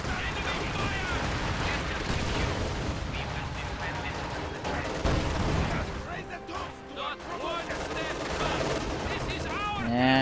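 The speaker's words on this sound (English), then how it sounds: "The pintle-mounted machine gun doing what it can against those conscripts" Pintle-mounted machine gun rattling off bursts in a Company of Heroes 2 battle against conscript infantry, loud and continuous amid dense gunfire, explosions and battle noise, with a voice talking over the action.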